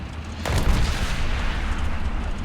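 A single heavy tank cannon shot booms from an enemy tank in War Thunder, a sharp loud blast that decays into a rumbling tail lasting a couple of seconds.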